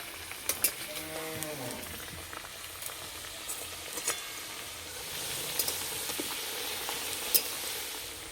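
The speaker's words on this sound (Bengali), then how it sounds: "আলুগুলো বেশ লাল লাল করে ভেজে নেব।" Potatoes fry in hot oil for a home-style chicken curry, a steady soft sizzle that runs through the whole stretch with a few utensil clinks and some brief low background noise.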